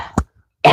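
A single sharp, close cough from a woman, a quick burst followed by near silence before another breathy sound begins.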